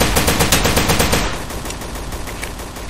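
Fast rhythmic automatic gunfire in the shooter game Combat Reloaded 2, a loud steady burst of evenly spaced shots for over a second, then fading into quieter scattered reports and game noise.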